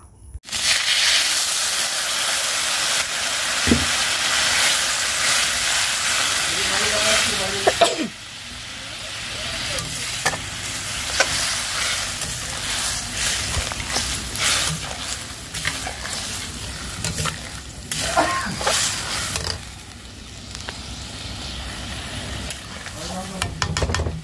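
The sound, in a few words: ground spice paste frying in pan for fish curry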